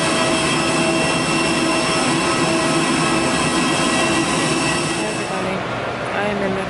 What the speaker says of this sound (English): My train is on its way and I'm gonna get on